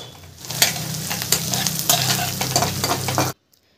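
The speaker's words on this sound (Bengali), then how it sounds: "একটু লাল করে ভেজে নেব পেঁয়াজটা।" Sliced onion fries in hot oil in a pan while being stirred, a close sizzle broken by repeated scraping strokes of the spoon, ending abruptly in silence.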